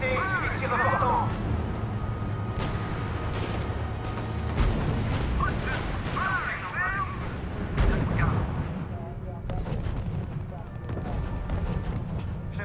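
Artillery and gunfire boom and crack in the war strategy video game R.U.S.E., a steady barrage of shots and blasts under radio-style voice chatter and a meow-like tone.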